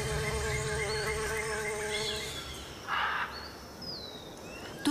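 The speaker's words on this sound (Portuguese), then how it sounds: "Seu néctar rico atrai abelhas e outros insetos." Bees and other insects buzz steadily in the Amazon rainforest, a dense, continuous drone of wingbeats with a brief louder pass midway, close and alone without voices.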